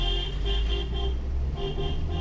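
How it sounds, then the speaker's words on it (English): A vehicle horn honks repeatedly in short bursts on a very narrow mountain road between Siliguri and Darjeeling, loud and close over a steady engine rumble. "Keep on honking the horn because this place is very, very narrow."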